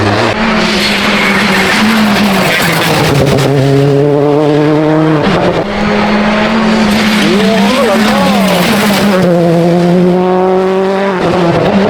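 Rally car on a stage of the Rallye d'Antibes, FIA European Rally Championship, passing at speed with a loud engine whose pitch rises and falls through gear changes, close and sustained, with spectators talking in the background.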